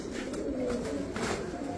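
A Bezi pigeon cooing close by, soft rolling low coos repeating in a short burst amid faint background noise.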